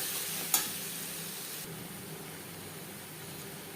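A paste of tomato, ginger and green chili fries and is stirred in a pan for a vegetarian potato-paneer curry, making a steady close hiss and sizzle with one sharp scrape early on.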